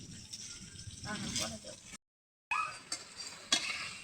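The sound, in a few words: frying spice paste for fish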